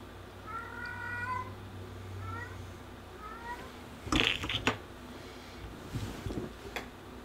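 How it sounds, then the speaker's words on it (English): A pet cat meows several times at mid distance over a low steady hum, with a louder cluster of calls partway through, in a room where a Pokemon Legends Arceus game is being played. "Shush cat."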